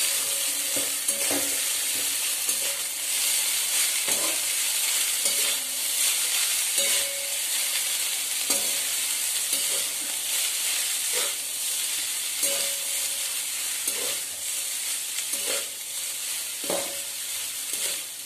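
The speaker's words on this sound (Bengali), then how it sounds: "এবার এটাকে ভালোভাবে মিক্স করবো।" Food fries in a pan with a loud, steady sizzle while a spoon stirs and scrapes it in a regular rhythm of knocks and swishes, close and alone.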